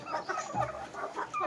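Free-range village hens cluck in short, repeated bursts near a small coop, several calls overlapping at moderate volume.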